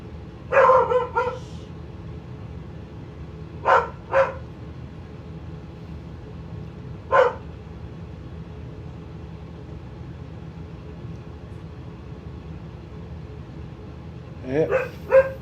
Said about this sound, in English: Yep, farm dogs